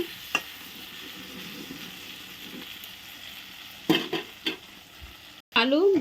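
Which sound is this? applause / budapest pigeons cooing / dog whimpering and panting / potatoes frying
potatoes frying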